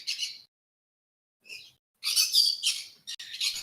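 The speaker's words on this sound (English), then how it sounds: "When you do that, all I hear is a bunch of birds." Shrill bird chirps and tweets come in short bursts from game tokens in a Roll20 tabletop session, with a brief pause and then a busier, denser flurry of calls.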